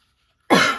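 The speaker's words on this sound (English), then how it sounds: "Sorry, I'm coughing." A single abrupt, harsh cough bursts in after a moment of silence, close by and loud.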